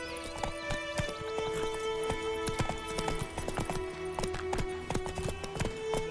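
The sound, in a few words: horse Roach trotting hooves in video game Witcher 3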